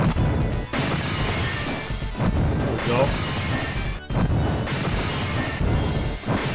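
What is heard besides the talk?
glass breaking in Final Fight arcade video game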